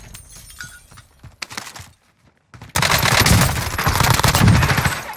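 Loud, sustained automatic gunfire from a Call of Duty Warzone match, heavy rapid bursts after a quieter stretch of scattered shots and footsteps, close and intense.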